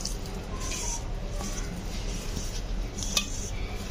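A spoon clinks and scrapes against a bowl while carrot pieces are tossed in gram-flour bajji batter, soft, close, irregular knocks with one sharper tap, over faint room noise and no talk.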